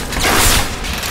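A weapon is reloaded in the video game BioShock with a short, loud, close mechanical ratcheting clack of metal parts, heard alone.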